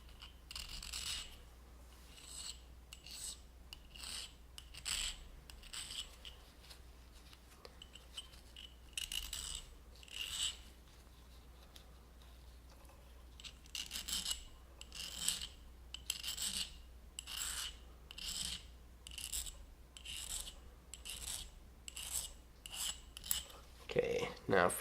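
Remington 870 shotgun trigger parts are honed with short rasping strokes that come in irregular bursts separated by quiet pauses, close and fairly soft, with no talking.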